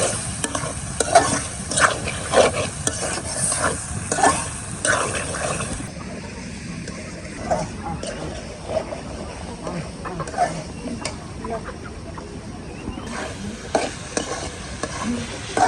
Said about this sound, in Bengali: জগাটা মশলার সাথে ভাজা ভাজা করে নিচ্ছি।